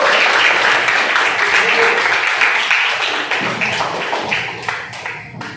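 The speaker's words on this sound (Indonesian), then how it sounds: "beri tepuk tangan yang meriah untuk kelompok 1." A classroom of students applauds a group presentation with bright, close hand claps that gradually thin out, mixed with some background voices.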